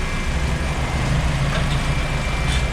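A turbocharged K24 engine in a Honda EK hatchback idles steadily, a low, throbbing rumble with a faint whine above it, close and continuous with no talking.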